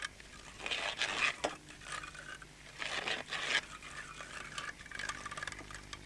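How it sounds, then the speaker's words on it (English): Vegetables being ground into a puree for an Italian Calabrian meat sauce, heard close as bursts of rough scraping and rasping with metallic clinks of utensils against a pot, coming in two stronger surges and then lighter scraping. "Then we grind this through to make a bit of a vegetable puree which will ultimately help thicken the sauce of the dish"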